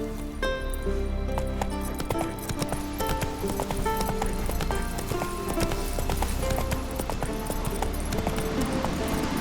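Roach, the horse in The Witcher 3, gallops with a steady, rapid clatter of hooves, close and continuous throughout, with occasional snorts and tack noises over a low ambient bed.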